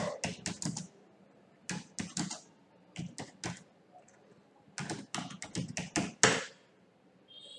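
Bursts of quick keystrokes on a computer keyboard come in short runs separated by pauses, close and crisp against a quiet room.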